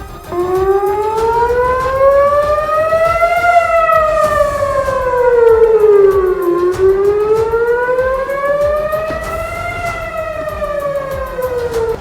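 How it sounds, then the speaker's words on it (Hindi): An air raid warning siren wails across Ashkelon, an Israeli city, rising and falling in long slow sweeps, loud and continuous for the whole stretch with no voices. "तभी शहर में लोगों को आगाह करने के लिए हमले के सायरन बजने शुरू हो गए"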